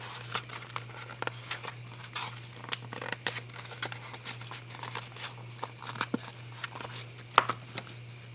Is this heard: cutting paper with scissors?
yes